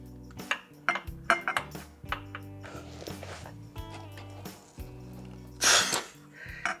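Steel socket wrench extension and 14mm socket rattling and clinking as they are picked up and fitted while working on a Honda Shadow VT600 motorcycle; a string of sharp, close metallic clanks and scrapes, no talk.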